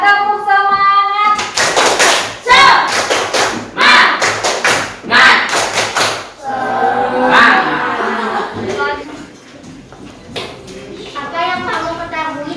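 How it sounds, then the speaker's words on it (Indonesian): Indonesian schoolchildren in a classroom perform a rhythmic spirit clap, loud patterned bursts of clapping and thumping in quick sequences, with a teacher's voice and children's talking between the rounds. "Coba tepuk semangat."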